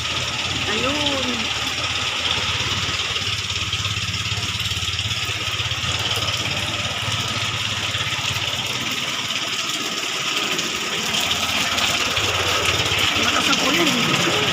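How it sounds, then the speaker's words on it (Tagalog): Heavy rain pours steadily on a wet morning in Morong, Bataan, near boats at the shore, a broad constant hiss that never lets up, with voices talking faintly over it. "Malakas ang ulan."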